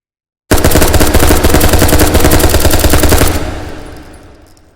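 A rifle in the VR shooter Hot Dogs, Horseshoes & Hand Grenades empties its magazine in one loud, rapid burst lasting about three seconds, then a ringing tail fades out.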